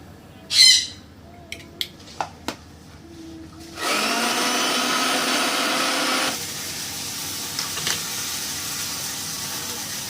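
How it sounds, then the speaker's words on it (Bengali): In a home kitchen, an electric grinder whirs through spice paste for an okra curry in one loud burst lasting a couple of seconds. Before it, a bird squawks and a few sharp clicks sound, and a quieter hum follows. "ঢ্যাঁড়সের তরকারির জন্য এখানে হচ্ছে মশলাটা পেস্ট করে নেব।"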